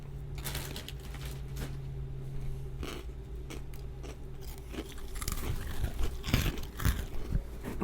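Crunchy Golden Grahams cereal is chewed close to the mic, with repeated crisp crunches and bites that grow louder and denser toward the end, heard alone without speech.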